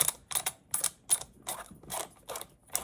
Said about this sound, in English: What I like to do is just hold this in place and then begin to screw.